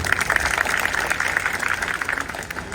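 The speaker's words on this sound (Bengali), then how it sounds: "তাদের সবার জন্য একটা হাততালি দেন জোরে" An audience at a student welcome ceremony applauds the previous speakers with dense, steady clapping that fills the whole moment, with no voices over it.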